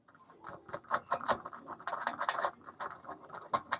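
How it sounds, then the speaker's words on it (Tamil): Cloth rubbing and scraping grime off a bicycle freewheel, close and fairly quiet, with irregular brushing strokes and faint clicking of the mechanism, no voices. "இந்த பகுதியில் இருக்கக்கூடிய அழுக்குகள் எல்லாத்தையும் இந்த துணியை வச்சு சுத்தமாக க்ளீன் பண்ணிடலாம்"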